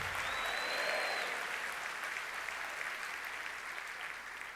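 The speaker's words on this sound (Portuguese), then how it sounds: "Você pode aplaudir ao Senhor bem forte nessa manhã?" A church congregation at a morning worship service applauds loudly and continuously, a broad, sustained wash of clapping that tapers off slightly toward the end.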